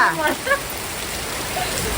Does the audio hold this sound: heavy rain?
yes